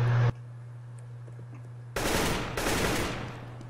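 Rapid bursts of automatic gunfire in CS:GO, two loud volleys close by after a stretch of low hum, the shots dense and continuous.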